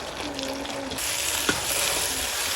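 Chilli chicken stir-fried over a high flame, a steady loud sizzle filling the clip with the clatter of stirring and a sharp scrape of a utensil near the middle, with no talking.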